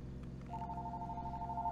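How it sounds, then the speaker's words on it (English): A telephone rings inside the horror video game Fears to Fathom: Woodbury Getaway, a steady electronic ring starting about half a second in and continuing to the end over a low ambient hum. "My phone's ringing."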